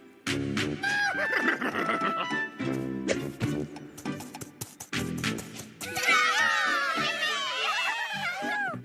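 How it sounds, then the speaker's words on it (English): A horse gives a shrill, wavering neigh amid busy cartoon-style sound effects and music, with a second whinny near the end. "she heard a familiar-sounding neigh"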